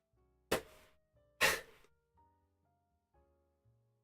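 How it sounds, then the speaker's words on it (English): A single person sneezes, apparently twice: two sharp, loud bursts close to the microphone, each followed by a short breathy tail, then quiet with faint background tones. "I'm gonna sneeze."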